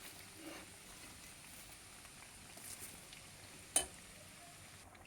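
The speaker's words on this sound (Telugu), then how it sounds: "అల్లం వెల్లుల్లి వేగిపోయిందండి" Chicken pieces fry in oil with ginger and garlic for a chicken pickle, making a steady, quiet sizzle. A single sharp clink of a utensil cuts in partway through, and no voice is heard.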